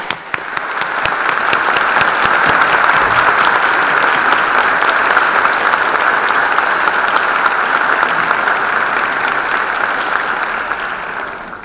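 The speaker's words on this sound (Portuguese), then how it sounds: "Por favor, uma salva de palmas para essa comissão." Sustained round of applause from a conference audience at the closing session of a labour court congress, a steady dense wash of many hands lasting over ten seconds before tapering off at the end.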